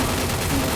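Gunfire from a shooter video game comes as a dense, continuous, loud burst of shots that fills the whole moment, with no talking over it.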